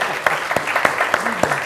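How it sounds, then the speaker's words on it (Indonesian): Audience clapping at a cultural arts gathering, a short burst of sharp claps in an irregular rhythm, moderately close and fairly sparse, with some background murmur beneath. "Ya, tepuk tangan."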